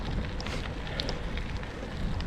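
Steady, rough wind roaring and buffeting across the whole clip, heard while gravel cycling between Kraków and Rzeszów, with no pauses or voices.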